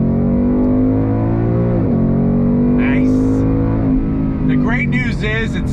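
A 2022 Ford Mustang GT in Eruption Green pulls hard on throttle, its loud V8 drone holding steady and dipping once as it shifts, with someone talking over the engine.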